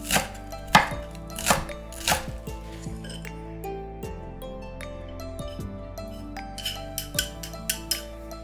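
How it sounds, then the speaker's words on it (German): A knife chops ginger and spring onion finely on a cutting board, giving close, crisp, irregular chopping strikes with a few light clinks, loud and alone. "Ingwer fein hacken. Lauchzwiebel fein schneiden."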